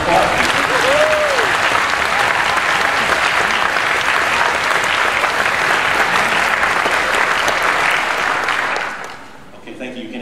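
Audience applauding students at a music education section event, a full, steady wash of clapping with a brief whistle early on, fading out near the end as a voice begins.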